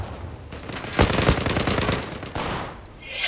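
Automatic rifle fire in the online shooter Zula, a sustained rattling burst lasting a couple of seconds, loud and close, followed by a further shorter volley.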